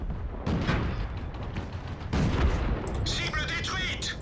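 Tank cannon shots in World of Tanks: a couple of heavy booming blasts ring out with rumbling tails, followed by sharper metallic impact sounds, loud and close amid game noise.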